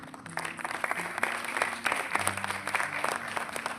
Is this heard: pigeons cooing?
no